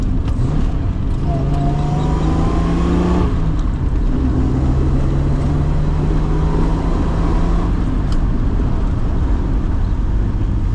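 A Triumph GT6 sports car engine revs and pulls through the gears from inside the cabin, a loud continuous drone with rising pitch that drops at a gear change, then climbs again.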